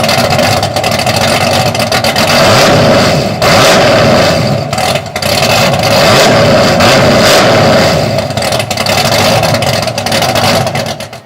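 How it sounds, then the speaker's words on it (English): The engine of a 1968 Chevy wagon revs loud and close through a Borla muffler exhaust. Its throaty roar stays continuous, with several brief dips as the throttle is blipped. "we're testing the Borla Tack Craig muffler right now"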